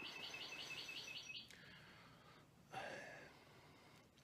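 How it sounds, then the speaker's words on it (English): Birds chirp in a quick rhythmic run of high tweets, followed by a later fainter call, set against steady background hiss. "Birds chirping."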